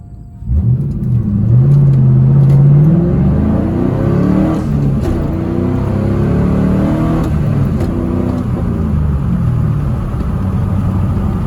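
A 2000 Trans Am with the LS1 V8 pulls hard from a standstill in a 0 to 60 run, engine rumbling and revving loudly as it climbs through the gears, heard from inside the car without talk.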